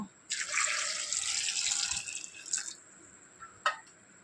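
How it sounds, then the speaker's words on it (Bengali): Water from a tap runs steadily for about two seconds into a pressure cooker holding potatoes. A few brief splashes and drips follow, then a short final trickle. No one speaks. "এরপরে আমি এখানে পরিমাণ মতো জল দিয়ে দেব।"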